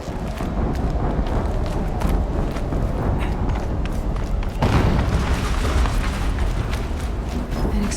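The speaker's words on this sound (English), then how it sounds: "An explosion." An explosion in the video game Horizon Zero Dawn, a loud deep boom that hits midway amid continuous rumbling game noise and clattering mechanical sounds, with a low roar lingering after the blast.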